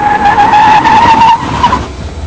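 BMW 850 CSi with a V12 engine pulling away, tires squealing loudly in a sustained high-pitched screech over engine roar, close and dominant, fading slightly toward the end.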